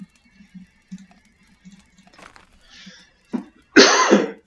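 After a few quiet, scattered sounds, one person lets out a harsh, loud cough near the end, rough and breathy, preceded by a shorter catch.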